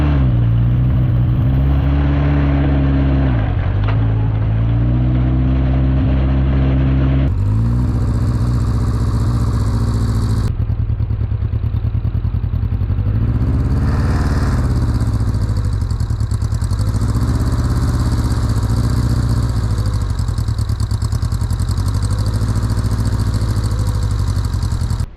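A pre-war Austin Ten rat-rod special with a leaking manifold idles roughly, then revs up and down in repeated swells, loud and close throughout.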